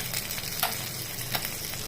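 Fish frying in oil in a kadai, a close, dense crackling sizzle with small bursts of spatter, steady for about two seconds before cutting off abruptly.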